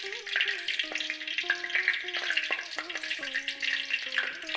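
Five clove pieces fry in hot oil, giving a continuous close crackling sizzle with a few thin tonal whines over it.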